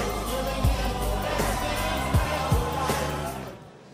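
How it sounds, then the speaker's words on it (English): A boxing arena crowd on its feet at the final bell sends up a broad, steady roar of cheering, punctuated by a few dull low thumps, then fades away at the very end. "Crowd on their feet."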